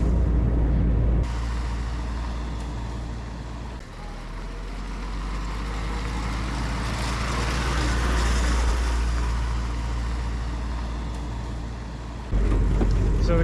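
A Willys Jeep engine revs and pulls steadily under acceleration, a continuous loud rumble that swells in the middle and eases toward the end, with no talk over it.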